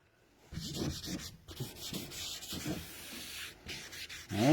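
Hand sanding of a nose cone, steady scratchy strokes rubbing back and forth in a continuous rhythm, close up and fairly quiet, with a brief pause partway through.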